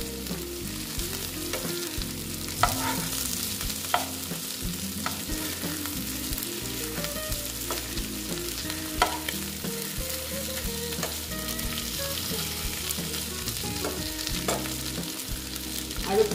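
Koi fish frying in a pan with spices, a continuous close sizzle with irregular crackles and spatters running steadily throughout, and no speech.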